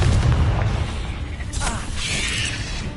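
Confringo blasting spell explosion in the Hogwarts Legacy video game, a deep boom with a crackling burst in the middle, loud and close over a dense layer of game effects and low rumble.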